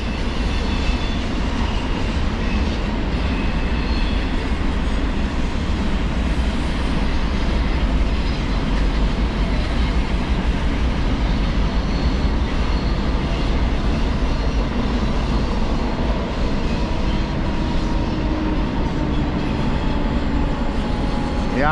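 A loud, continuous rumble and roar of a freight train with intermodal cars rolling past nearby around a bend, steady throughout with a faint squeal near the end.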